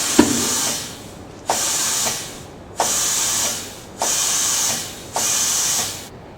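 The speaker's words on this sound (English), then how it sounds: "As we inflate the tire, we need to make special note of how much air is going into the tire" Air hisses into a tire in five sustained bursts, each starting abruptly and tapering slightly before a short pause, loud and close during inflation of a tire mounted on a rim.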